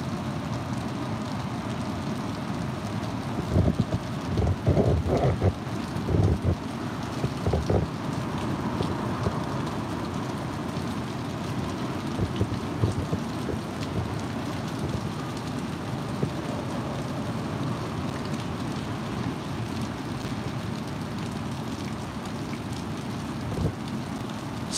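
Typhoon Mangkhut under a Typhoon 10 warning with 140 km/h gusts: a steady, dense roar of rain and wind that runs throughout, with a few sharper bumps and gusts near the start, and no voices.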